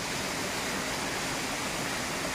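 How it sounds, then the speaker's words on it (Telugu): Bugga waterfall in Telangana pours in a dense, steady rush of white noise, close and continuous with no voices. "ఈ వాటర్ ఫాల్ని మీకు చూపించడానికి ఈరోజు ఇక్కడికి వచ్చినాం"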